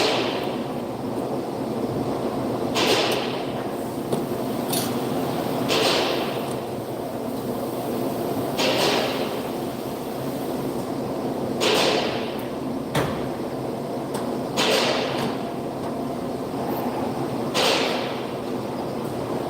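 An Icon hammer strikes a brake rotor on a 2019 VW Jetta GLI during a brake job, giving about seven sharp metallic bangs spaced a few seconds apart over a steady background hum in a garage.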